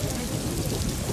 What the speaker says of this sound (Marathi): राजगुरुनगरमध्ये हा तुफान पाऊस झालाय